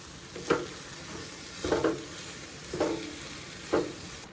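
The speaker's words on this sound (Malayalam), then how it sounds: "ശർക്കര നല്ല അലിഞ്ഞു വരുന്നത് വരെ ഒന്ന് അടുപ്പത്ത് വെക്കണം." Jaggery melting in a pan on the stove for a coconut filling is stirred in four distinct strokes roughly a second apart. Each stroke gives a soft scrape with a faint sizzle over a quiet background.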